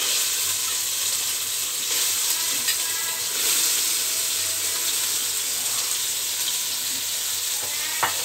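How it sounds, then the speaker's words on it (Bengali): Soy chunks fry in hot oil with bay leaf and cinnamon for a soybean biryani, giving a steady, close sizzle that holds evenly throughout with faint stirring and no talking. "এবার সয়া ফলগুলো খুব সুন্দর করে ভেজে"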